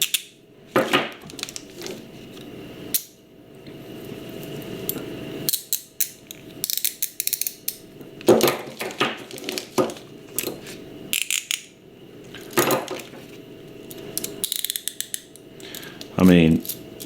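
Metal Galls handcuffs are handled up close, giving scattered sharp metallic clicks, ratcheting rattles and clinks with short pauses between bursts.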